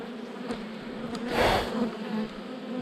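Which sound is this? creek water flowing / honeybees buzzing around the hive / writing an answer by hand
honeybees buzzing around the hive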